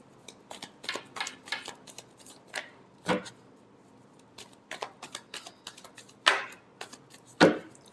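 Tarot cards are shuffled by hand, a series of crisp riffling snaps and soft slaps in uneven bursts, close and clear, with a couple of sharper louder flicks near the end and no talking.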